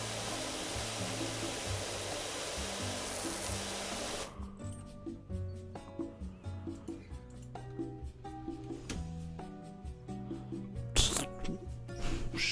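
Pressure washer spraying in Powerwash Simulator on a backyard clean, a steady broadband hiss for about four seconds, then broken into short bursts and pulses over a constant low game hum.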